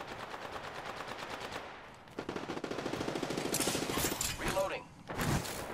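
Automatic weapon fire in the battle royale game Apex Legends, a steady rattle of rapid shots building in intensity, followed by mechanical clicks and a short sharp burst near the end, with a game voice briefly audible.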